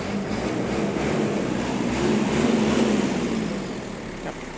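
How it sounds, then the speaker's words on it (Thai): A four-cylinder Kubota GT-3 tractor diesel engine runs at a steady, smooth idle nearby, a low continuous rumble with a slight swell in the middle. "นี่ครับสี่สูบครับเสียงก็จะประมาณนี้นะครับ นุ่มๆครับ"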